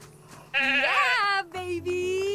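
A sheep in the video game The Good Life gives a loud wavering bleat, followed by a shorter second call over a low background hum.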